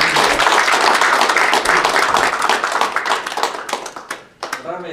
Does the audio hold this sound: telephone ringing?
no